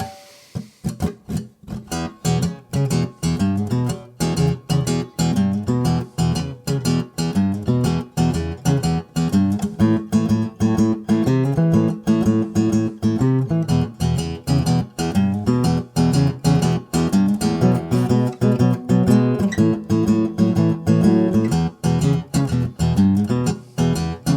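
A steady acoustic guitar blues shuffle in E, with a loping, swung rhythm, played alone and continuously at moderate volume.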